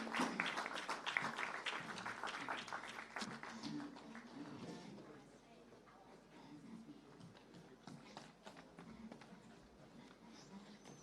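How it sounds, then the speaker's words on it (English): An audience at a meditation leaders' conference in New Delhi claps for an esteemed guest, a dense patter of applause that thins and fades to scattered claps midway. "So let's keep clapping for our esteemed"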